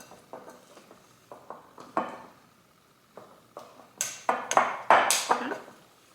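A spoon stirs oats in a bowl, producing a series of light scraping clinks and taps that quicken and grow louder and brighter toward the end, close by and with no talking.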